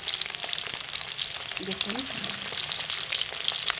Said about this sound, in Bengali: আর এই যে মাছ ভাজা বসিয়েছি, রুই মাছ ভাজা